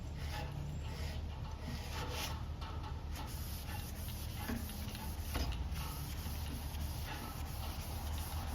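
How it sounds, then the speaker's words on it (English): A rag wipes stain off a wooden baseball bat, giving a faint, continuous soft rubbing and scuffing with a few light taps, close by and quiet against low background noise. "we're going to take another one of these rags and wipe it off"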